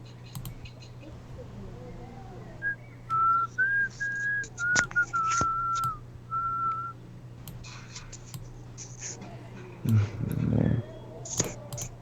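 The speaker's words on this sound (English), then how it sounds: "Sorry, I started whistling." A person whistles a short melody of sustained notes over a low steady hum, followed by a soft breathy noise and a few clicks.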